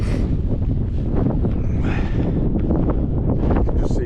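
Strong wind buffeting the microphone on open Pennine hills, a loud, steady roaring gust that fills the whole moment with no break.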